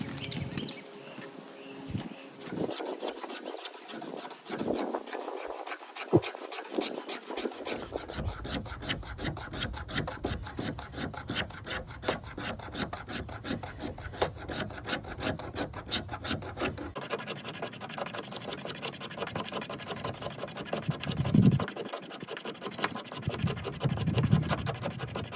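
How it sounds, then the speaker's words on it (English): A sharpened spine of a stainless Mora Companion knife scrapes fatwood in steady rasping strokes, continuous and close, with a few louder rubbing passes near the end. "Let's scrape up another piece."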